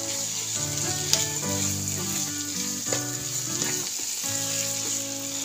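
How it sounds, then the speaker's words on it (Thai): Corn, carrot and other vegetables sizzle steadily in a hot pan with rice about to go in, a continuous frying hiss with occasional stirring clatter close up, no talking. "ใส่กระโพดไปด้วยเนาะใส่เยอะเลยอร่อยเดี๋ยวก็เอาข้าวใส่ลงไปนะ"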